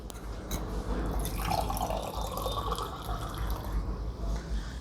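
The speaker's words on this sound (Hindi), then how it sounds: "चलिए 1 मिनट पानी पी ले जरा।" Water pours and trickles into a vessel at close range, a fairly quiet liquid splash and drip with no talking.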